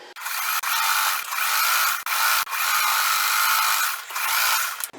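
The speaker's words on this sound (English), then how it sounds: "We are going to sew across here to create the bottom of the bag." A sewing machine stitches across the bottom of a quilted tote bag, running in long steady whirring bursts with brief stops between runs, close and loud with no talk.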